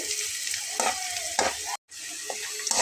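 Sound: frying cinnamon and whole cumin in oil

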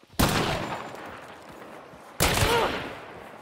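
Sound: gunfire in a video game

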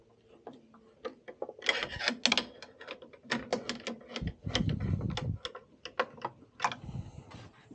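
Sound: tightening screws on a Culligan water softener

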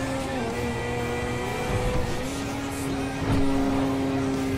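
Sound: car engine revving in video game GTA V with driving mod

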